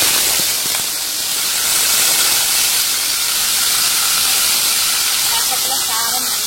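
Vegetables tipped into hot tempered oil give a steady, close, loud sizzle that holds as an even, unbroken hiss from start to finish.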